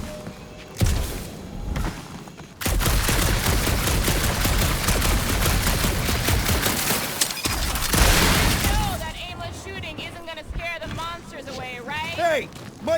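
Sustained rapid weapon fire from Guardians of the Galaxy erupts after a few scattered shots and keeps going for several seconds in a dark alien setting, then gives way to chirping creature-like calls and voices.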